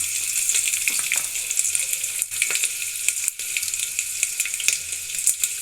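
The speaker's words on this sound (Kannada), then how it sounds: "ಒಂದೆರಡು ಸೆಕೆಂಡ್ ಹುರ್ಕೊಳ್ಳೋಣ." Garlic and dried red chillies fry in oil over a low flame for a cumin-pepper rasam, giving a steady, close, continuous sizzle with faint stirring throughout.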